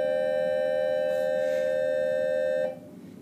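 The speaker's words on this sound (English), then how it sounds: "Sorry about the bell." A bell rings as a single steady electronic tone for under three seconds, then stops abruptly, leaving faint room noise during a math lesson.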